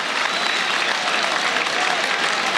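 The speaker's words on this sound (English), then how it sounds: "He's been applauded from off-target goal kick." A football crowd at a Manchester City versus Brentford EFL Cup match applauds after an off-target shot, a dense, even wash of clapping from a large stadium audience, with no pause.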